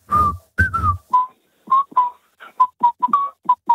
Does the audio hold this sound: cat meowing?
no